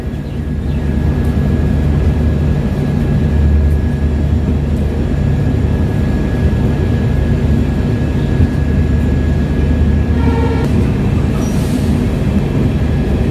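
Inside the 12088 Guwahati–New Jalpaiguri Shatabdi Express as it pulls out of Udalguri railway station: a loud, steady rumble of wheels and carriage noise with a constant hum, and a brief squeal near the end.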